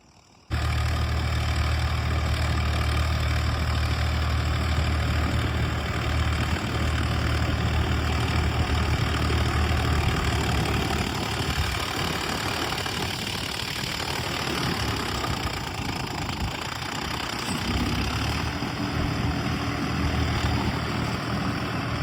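A Swaraj 744 XT tractor running with a six-foot rotavator mounted behind it, working a field spread with manure, gives a loud, steady engine drone that continues throughout with no talking.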